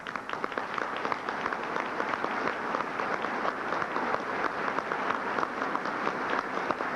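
A large crowd in Philadelphia applauds President Reagan, a dense, steady wash of clapping that holds at an even level throughout.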